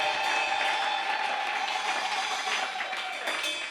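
A church congregation claps together in continuous, dense applause, loud and steady throughout with no pauses.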